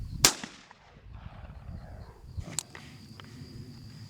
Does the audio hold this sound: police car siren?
no